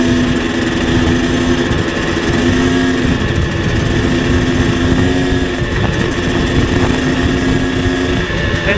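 Two-stroke motorcycle engine on a street ride, droning loud and steady at close range with slight rises and dips in revs throughout, no talking.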